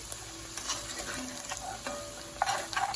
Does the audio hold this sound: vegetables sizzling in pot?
yes